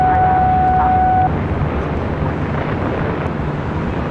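Airliner taking off from runway 25 right at LAX, a distant, steady jet roar blended with wind noise; a brief high tone sounds at the start and there is no talk.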